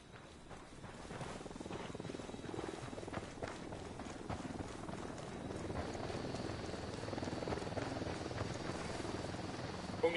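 Helicopter rotor thudding overhead in a Ghost Recon Wildlands game world, a steady beating drone that gradually grows louder over ten seconds, with faint rustling and no clear talk.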